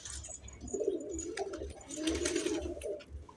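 Pigeons coo in soft, repeated throaty phrases close by, a rhythmic series of low rolling calls heard alone without talk.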